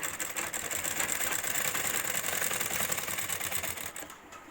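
A sewing machine edge stitching a grocery bag runs in a steady, fast mechanical whir with a rapid ticking needle rhythm, close and continuous, then slows and stops near the end.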